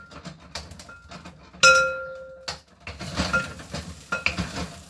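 Fried rice with vegetables being stirred in a pan, giving close scraping and sizzling with a few metallic clinks of utensil on pan, one sharp ringing clink near the middle.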